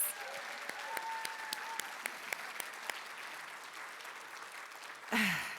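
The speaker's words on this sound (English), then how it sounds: "Can we please give another round of applause to all of tonight's recipients?" Quiet applause from an evening awards celebration audience for honorees at a chamber of commerce event, with a few sharper individual claps standing out over the soft patter before a louder burst of noise at the end.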